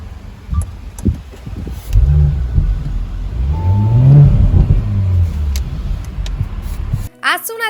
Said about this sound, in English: the exhaust note on startup, especially in the sport mode when the valves are open